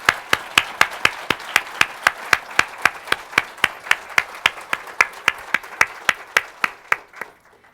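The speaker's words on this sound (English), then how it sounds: "Let's please give them a round of applause for what they have done." An audience gives a round of applause at a women's center anniversary celebration, with slow, evenly spaced hand claps ringing out one after another before the claps fade near the end.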